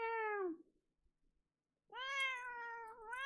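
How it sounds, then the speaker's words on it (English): A house cat gives two clear, close meows, a falling one followed after a short pause by a longer, rising and wavering one, heard alone against silence. "Meow."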